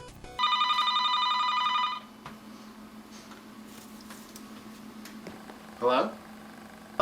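A cell phone rings loudly and close for about two seconds with a steady electronic trill, then stops, leaving room noise and a low hum before a brief squeak near the end.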